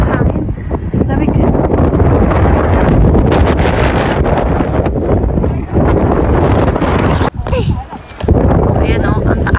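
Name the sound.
wind blowing into the microphone outdoors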